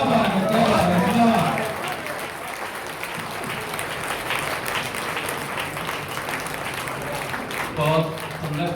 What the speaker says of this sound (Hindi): हमने अच्छी तालियां दी